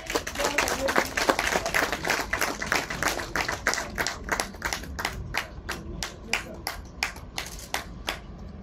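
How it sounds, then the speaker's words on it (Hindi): Audience at an art awards ceremony claps for the artists, a dense burst of applause that thins into fewer, separate claps toward the end, loud and close throughout. "अपनी संवेदनाओं को अपनी तालियों के माध्यम से इन कलाकारों का उत्साह बढ़ाएं।"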